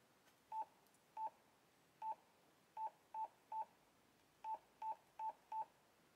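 DTMF keypad tones on a ham radio as a phone number is keyed in: ten short, clean beeps in uneven groups, quiet and alone with no talk.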